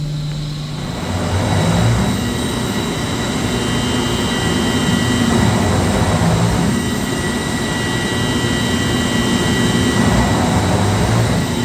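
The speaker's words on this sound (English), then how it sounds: "The chiller's surging" A centrifugal chiller in a mechanical plant surges, giving a loud, steady machinery roar with a high tonal whine and broad swells that rise and fall every few seconds.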